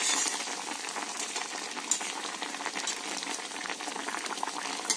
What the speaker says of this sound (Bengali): ঝোলটা আমার ফুটে উঠেছে, এবার আমি আস্তে আস্তে সবগুলোকে দিয়ে দিলাম।